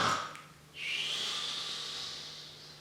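A person imitates a snore with one long, breathy, hissing exhale after a short intake of breath, close to the microphone and fairly loud.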